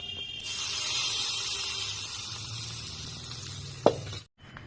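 Hot tempering of kasuri methi and Kashmiri chilli powder poured over an egg tadka, giving a steady close sizzle and bubbling hiss that ends with a brief clink, then cuts out.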